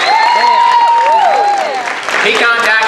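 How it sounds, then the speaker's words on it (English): Audience applause at an FFA state president's retiring address fills the room, a continuous broad wash of clapping with whistles and cheering voices rising over it. "let's give him a round of applause"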